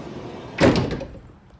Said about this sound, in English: This is a manual slide door.